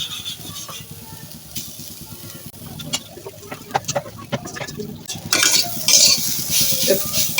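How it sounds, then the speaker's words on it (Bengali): Grated coconut is lightly fried in a wok, a spatula scraping and knocking repeatedly against the metal while a gentle sizzle rises and grows louder in the second half. "আর এর মধ্যে আমি নারিকেলগুলো কিন্তু আগে ভেজে নিব হালকা।"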